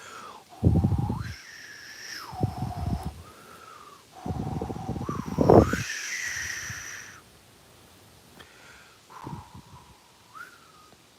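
A voice imitates wind with breathy, rising and falling whooshes and hollow whistling tones, repeated several times over about ten seconds.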